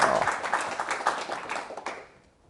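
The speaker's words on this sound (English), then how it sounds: "Round of applause, Daniel." Audience at a tech talk at an IoT event claps for about two seconds, a dense patter of hands that fades out quickly into near silence.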